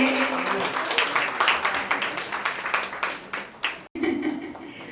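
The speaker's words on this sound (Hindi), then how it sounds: "एक बार जोरदार तालियां सर के लिए" A crowd applauds with rapid, rhythmic clapping that swells and fades over a few seconds, then cuts out briefly before a murmur resumes.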